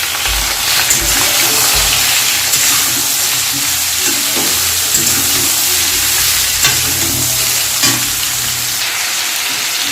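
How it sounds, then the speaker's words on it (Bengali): Vegetables fry in a pan with a radhuni tempering for a yogurt shukto, a loud, continuous close sizzle mixed with repeated stirring scrapes from start to finish. "তো এটা একটু ভাজার পর তো আমি যে ভেজে রাখছি সেই সবজিটা এটা দিয়ে দেব"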